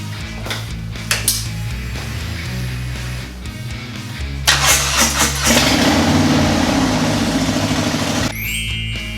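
Harley-Davidson Milwaukee-Eight motorcycle engine, just after a three-hole oil change, cranks and fires, then settles into a loud, steady, close idle with a lumpy low rumble and some metallic clatter.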